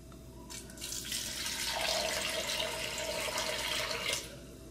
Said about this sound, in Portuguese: Eu coloco água dentro da vasilha.